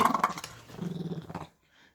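A Welsh Corgi growls when its nose is touched, giving a close, continuous rumbling snarl that lasts about a second and a half before cutting off, followed by faint quiet.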